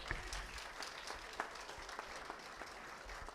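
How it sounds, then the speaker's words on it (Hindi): Audience applause at a Garhwali film trailer and music launch event, a steady wash of clapping throughout with no clear build or end. "जोरदार तालियां"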